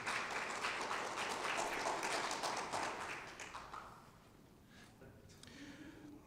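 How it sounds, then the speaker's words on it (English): Audience applause at a World Environment Day 2019 event for a green-building and sustainable architecture speaker, a dense burst of clapping that fades out after about four seconds, leaving quieter room noise. "give him a big applause, please"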